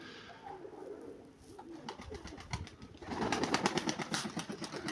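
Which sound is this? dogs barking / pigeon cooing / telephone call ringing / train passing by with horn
pigeon cooing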